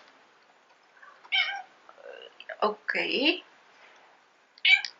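A house cat meows several times indoors, short nasal calls spread across a few seconds with quiet gaps between them, and a person speaks briefly in between.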